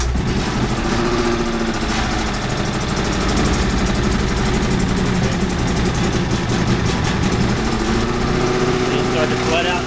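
A truckmount carpet cleaner's engine runs on half choke after starting, a loud steady mid-pitched drone with constant vibration that fills the whole stretch at close range.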